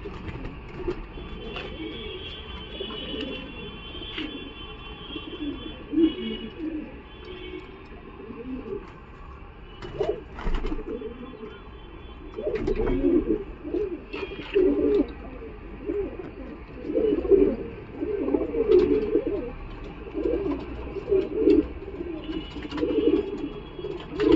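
Pigeons cooing softly and repeatedly at a crowded Galiff Street pigeon market, low murmuring coos layered over background bustle and occasional distant sounds.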